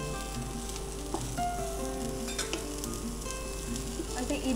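Vegetables for spring rolls sizzle and fry steadily in a pan with a constant crackling hiss. Faint clinks of stirring come through now and then, and no one speaks.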